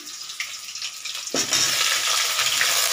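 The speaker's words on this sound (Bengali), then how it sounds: "রসুন আর একটা গোলমরিচ নিয়েছি, এটা আমি এটার মধ্যে দিয়ে দিচ্ছি তেলের মধ্যে" Garlic, a peppercorn and onions drop into hot oil and burst into a loud, steady frying sizzle that fills the rest of the short stretch, close and continuous with no talking.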